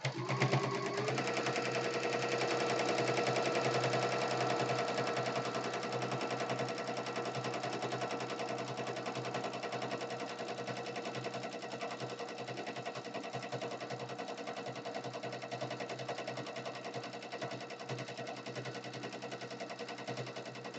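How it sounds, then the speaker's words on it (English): A sewing machine runs steadily for about twenty seconds, top stitching both sides of a quilt made from old napkins, a continuous close whirring hum with no talking. "I'm going to move that needle over again and do my top stitching on both sides."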